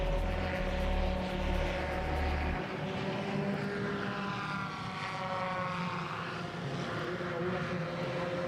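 A paramotor's propeller engine drones in flight during a slalom championship final, a steady buzzing hum that shifts in pitch as the pilot passes, with no talk over it.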